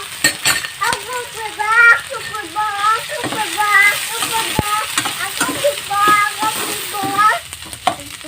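Dried fish drops into hot oil with browned onion, ginger and garlic, setting up a loud, close sizzle with scraping stirring and occasional utensil clinks, while a voice talks over it.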